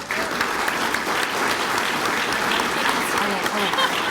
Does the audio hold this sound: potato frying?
no